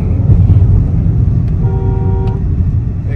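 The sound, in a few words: Mahindra XUV 3XO petrol SUV accelerating hard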